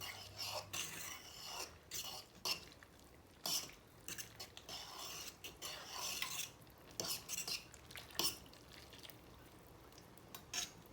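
Pasta stirred in a cooking pot with a utensil, quiet scraping and clinking strokes repeating irregularly, close and alone without talk.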